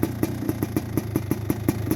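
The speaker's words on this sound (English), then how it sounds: "Of course, that exhaust is popping like hell. That thing it's loud." A 1985 Kawasaki KX500 two-stroke motorcycle engine runs close by, its exhaust popping in a steady, rapid rhythm of loud sharp bursts over a low engine drone, with no voices.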